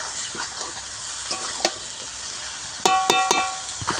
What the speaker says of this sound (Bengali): সম্পূর্ণ মশলা ভালোভাবে এইভাবে মাংসের মধ্যে মিশিয়ে দিতে হবে